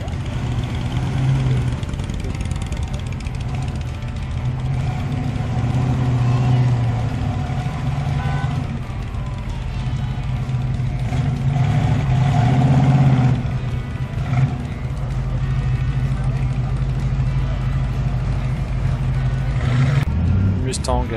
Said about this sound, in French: Un Dodge Ram. Et derrière une Corvette C5 cabriolet.